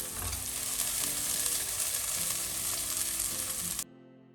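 Spring onion and garlic frying in a pan with a continuous bright sizzle and a few soft stirring scrapes, close up with no talk, cutting off abruptly near the end.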